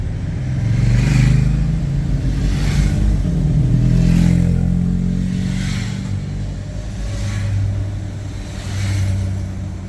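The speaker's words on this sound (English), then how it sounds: "we are stuck in a traffic jam" Cars idling and creeping in a stalled traffic jam on a road entering Slovenia, a steady low engine rumble with periodic louder swells as nearby vehicles rev and move off, close and continuous.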